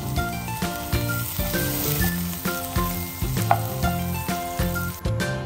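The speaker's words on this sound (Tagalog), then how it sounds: "Igisa na rin natin ang bawang para bumango." Ginger and garlic sauté in a hot pan, a steady loud sizzle with spatula stirring and scraping, with faint clinks and a musical background running under it.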